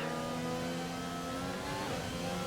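Race car engines at a race start in a racing game, a sustained loud droning roar that rises in pitch partway through as the cars accelerate, with no talking.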